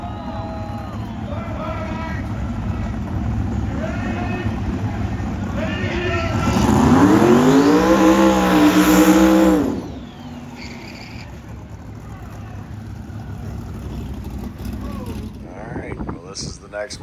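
A Ford Mustang doing a burnout at a car meet, its engine revving hard and climbing to a loud, sustained howl before cutting off, with crowd chatter and shouting around it.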